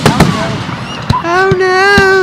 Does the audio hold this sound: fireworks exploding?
yes